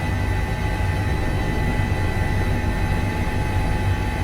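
An HPG H145 helicopter flying in Microsoft Flight Simulator produces a steady, dense rotor and turbine roar, constant and loud throughout without any talk.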